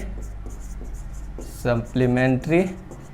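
Chalk or marker scratches across a classroom board during a Hindi geometry lesson in short, faint, rhythmic strokes, then a teacher's voice speaks briefly over it.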